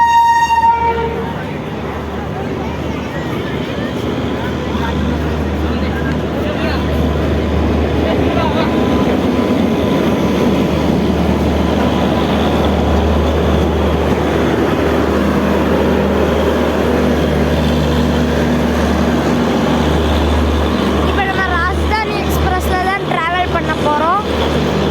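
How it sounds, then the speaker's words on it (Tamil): A long passenger train pulls into a crowded station with a steady loud rumble and clatter of rolling cars, a horn sounding at the start and squealing near the end, while people talk in the background. "நம்ம ட்ரெயின் இப்போ உள்ளே வருது, அதாவது ஷெட்லேருந்து வருது"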